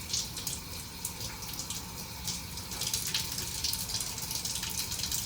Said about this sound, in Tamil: நல்ல லீவ்ஸ் மட்டும் எடுத்து வாஷ் பண்ணணும்